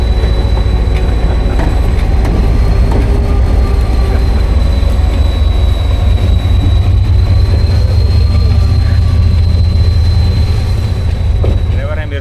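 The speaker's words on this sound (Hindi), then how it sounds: "ये अभी हमारे सामने आ रही है सखर एक्सप्रेस की पावर 146 टाउन की" The Sukkur Express locomotive approaches on the railway with a loud, steady, close rumble and hum that hold constant throughout, without breaks.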